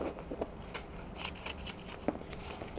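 Scissors snip through a strip of kinesio tape during foot strapping, giving a few short, faint crisp cuts spread across a quiet stretch.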